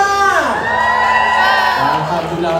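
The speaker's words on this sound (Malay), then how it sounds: "kita nak dengar tepukan daripada #Team Amira Uthman." Wedding reception guests, fans of Team Amira Uthman, raise a loud wave of cheering with rising whoops and shouts from many voices. A crowd close by roars together, and individual yells stand out.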